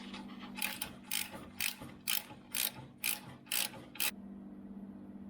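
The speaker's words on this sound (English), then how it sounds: "You can use this bolt to tighten it up and push the wheel out." A ratchet wrench tightens a bolt on an Austin Healey shock mount, eight crisp, evenly spaced ratcheting strokes close by, each a brisk metallic clicking burst, with no talking.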